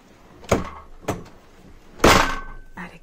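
An attic door beside a sewing room is shut on a rainy day: two quick knocks, then a louder bang and a brief rattle, all close by.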